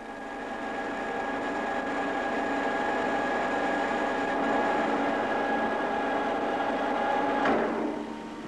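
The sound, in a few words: lathe enlarging a bored hole in workpiece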